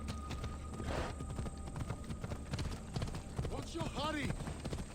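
Horse hooves clip-clopping in the video game Assassin's Creed Odyssey, a steady trotting patter under game ambience, with a voice talking and a brief whinny near the end.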